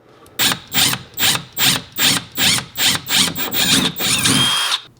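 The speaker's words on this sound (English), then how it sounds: "line up the hole back here and drill" A power drill bores a hole through a Corvette C6 widebody side skirt, buzzing close and loud in about nine quick, evenly spaced bursts before a longer continuous run at the end.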